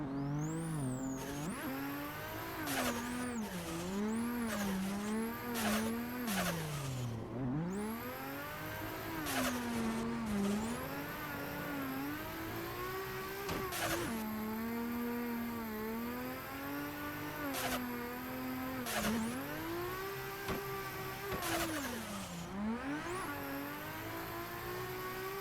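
An engine revs hard and changes pitch repeatedly as a car drifts in a racing video game, with rising and falling sweeps, gear-shift dips and thin tire squeals, loud and continuous throughout.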